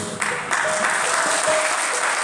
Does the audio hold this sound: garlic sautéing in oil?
no